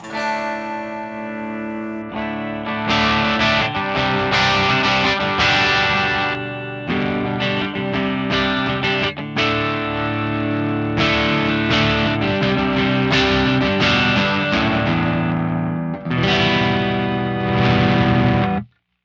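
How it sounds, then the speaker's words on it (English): Electric guitar through an Axe-Fx III Carol Ann OD2 amp model playing chords and single notes with a bright, clean amplified tone and some chorus-like shimmer, loud and close, with no talking. "it gives you this really, really nice clean tone"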